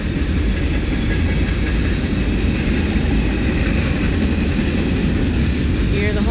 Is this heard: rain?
no